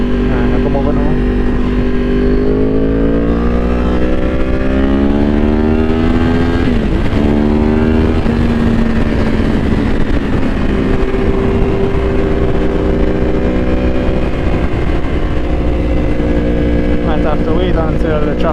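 Yamaha R1 and Honda CBR1000RR sportbikes racing at over 140 mph, a steady loud engine roar with rising and falling pitch from shifting and acceleration, continuous throughout with some speech mixed in.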